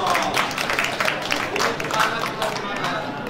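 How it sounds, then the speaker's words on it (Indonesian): An audience at an Indonesian government program launch event applauds with many hands, a brisk, fluttering patter of claps that keeps going steadily while voices carry over it. "Tepuk tangan untuk Ibu Wiwi dong."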